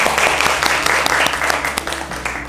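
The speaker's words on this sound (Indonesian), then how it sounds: "Tepuk tangan dulu buat kalian." Students in an Indonesian classroom lesson clap together for their classmates, a brief burst of close, loud, fairly rhythmic clapping with occasional sharper hand strikes over a low background hum.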